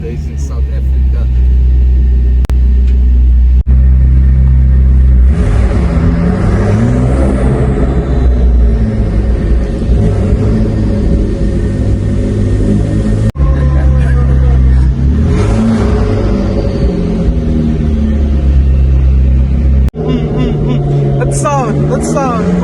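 A McLaren 650S supercar revving in South Africa, a loud, continuous engine roar with rising and falling sweeps as the throttle is blipped, close by and sustained throughout.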